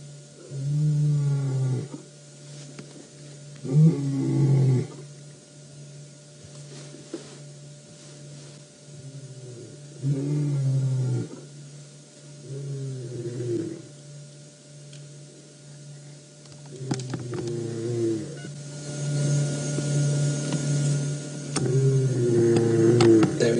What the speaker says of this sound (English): The other one's starting to roar a little louder.